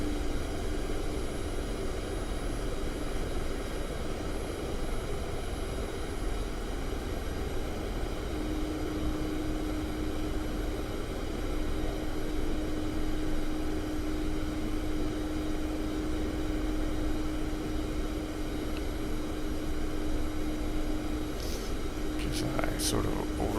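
Steady whirring rotor and turbine drone of a Mi-24 Hind helicopter coming in for a rolling landing in the DCS flight simulator, continuous and fairly loud throughout, with a steady tonal whine and a few brief clicks near the end.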